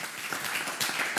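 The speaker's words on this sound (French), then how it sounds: "On a un public qui applaudit." A live audience at a public radio broadcast in Nîmes claps: a brief burst of steady, dense applause, fairly soft and slightly distant, with no speech over it.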